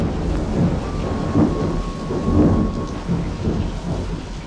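A heavy thunderstorm with steady pouring rain and deep rolling thunder, loud and continuous throughout with no break and no voices.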